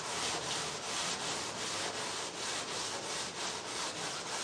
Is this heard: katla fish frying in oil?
no